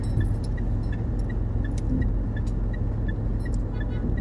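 A car idles or rolls by close at hand, a steady low engine hum with faint rhythmic ticking and clinks, no talk.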